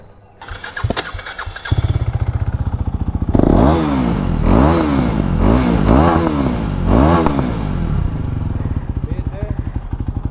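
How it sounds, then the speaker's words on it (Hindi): A Yamaha R3 motorcycle fitted with a quick shifter and a PowerTronic ECU fires up, then its exhaust is blipped through several loud, rising and falling revs, with faint pops and crackles as it settles back to a rough idle close by. "और बीच बीच में वो पॉप्स एंड क्रैकल्स भी हल्के हल्के पड़ते रहते"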